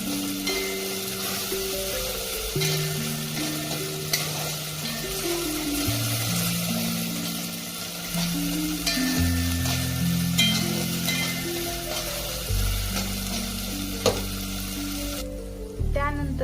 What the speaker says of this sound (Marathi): ही कोथिंबीरही आपण तेलात व्यवस्थितपणे परतून घेणार आहोत